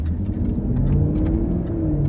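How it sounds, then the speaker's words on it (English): A Jaguar XKR X150 with a supercharged engine revs and pulls, a deep, steady mechanical growl heard from close by, without speech. "you never really tire of the way this car sounds, and it just sounds so tight now"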